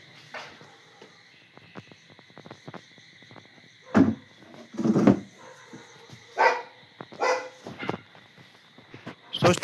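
A dog barks in several loud, sharp bursts at irregular intervals, some doubled, against a quiet background with faint chirping in between.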